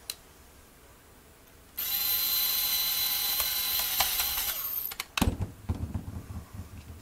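A power screwdriver drives a screw into a ColecoVision controller during reassembly, a loud steady whirring ratchet for about three seconds, followed by clicks and handling knocks of the plastic parts.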